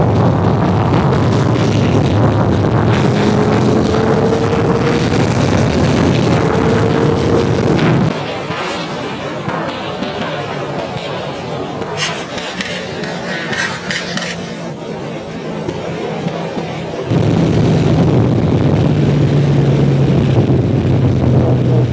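A Suzuki Hayabusa motorcycle engine on a Sunday morning expressway ride, a loud steady drone with wind rush, dipping quieter in the middle section before rising again to full throttle.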